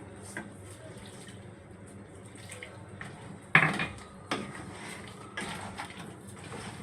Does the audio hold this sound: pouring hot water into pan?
yes